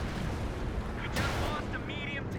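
Mortar carriage firing in the World War II strategy game Company of Heroes 2: a steady, loud rumbling battle din with one sharp, booming shot bursting out near the middle, followed by fainter whistling, tonal effects.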